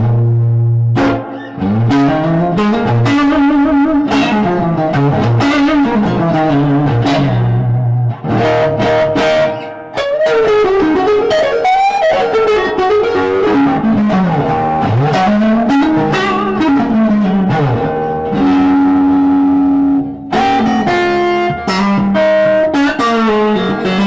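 Electric guitar played through a tube amp fitted with old tubes, with splashy reverb, melodic phrases and chords ringing out loud and steady, trailing washes of echo.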